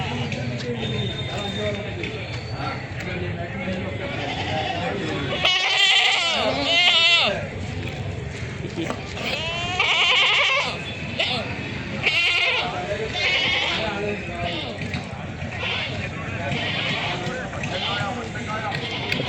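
Goats bleat repeatedly amid a busy crowd at the Peruvallur market in Kerala, with people talking throughout and a general bustle of voices and movement around them.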